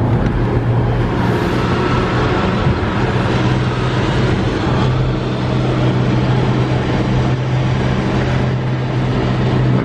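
A car creeps along in a long traffic lineup on the MacKay Bridge over Halifax Harbour, a steady loud engine and road rumble with a low drone throughout.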